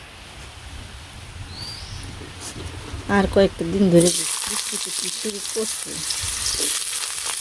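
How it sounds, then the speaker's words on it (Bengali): Potato pieces fry in hot oil in a wok in a village kitchen, a steady broad sizzle that swells louder partway through while someone talks over it. "তো এখন আমি এই যে আলুগুলো ভেজে নিই"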